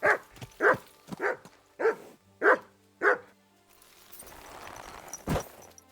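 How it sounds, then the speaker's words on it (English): Dog barking in the video game Kingdom Come: Deliverance 2, six sharp, evenly spaced barks close up and loud, then a low rustling background and one final short yelp near the end; no talking. "Stop barking."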